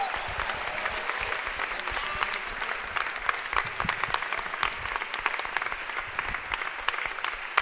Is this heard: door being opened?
no